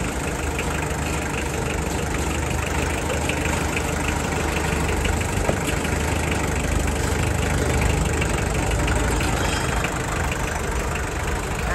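A Kubota L2600 tractor engine idles steadily and loudly up close, a continuous rough diesel rumble with no change in pace and no voices.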